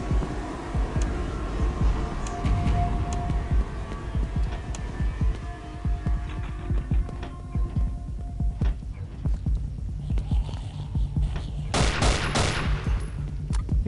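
Gunfire in the Afraid of Monsters video game: repeated sharp shots in bursts and rapid volleys over a low droning hum, fairly quiet overall.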